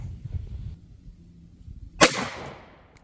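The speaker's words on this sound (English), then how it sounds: "I'm gonna take one more with the FN blue tip there" A single sharp gunshot from an FN SS197 5.7x28 blue tip round fired into ballistic gel, close and loud, cracking out after a stretch of quiet low rumble and leaving a short decaying tail.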